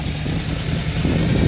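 A 1967 Chevrolet C10 truck with side exhaust idles close by, a steady deep low rumble with slight pulsing, heard alone.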